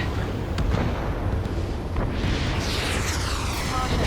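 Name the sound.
missile launch and explosion in the video game Ace Combat 7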